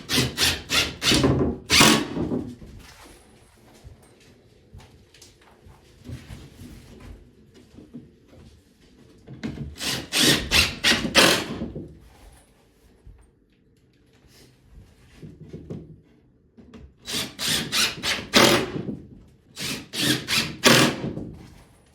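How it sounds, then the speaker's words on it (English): A drill drives screws through drywall into a furring strip in three separate bursts, each a short rising whir and grind up close, with quiet handling noise in between. "So I just screw right through the drywall into the furring strip."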